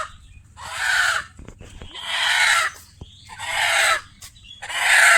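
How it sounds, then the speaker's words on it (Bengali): A chicken about to be butchered squawks and clucks loudly and close by in four harsh bursts separated by short quiet gaps, with no talking. "এই যে মুরগি"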